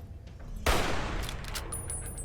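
A single hunting rifle shot fires in Fallout: New Vegas, a sharp loud blast that rolls into a lingering echo and ambient rumble, with faint high tones afterward.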